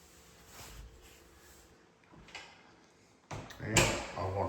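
A door inside a house, leading to a water closet, is handled with a soft click and then a louder thump and rattle near the end, close by with faint room noise between.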